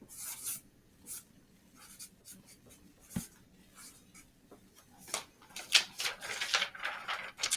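A pen signs a signature on paper with a run of scratchy strokes in quick, irregular bursts, growing busier and louder toward the end, close up with no talking.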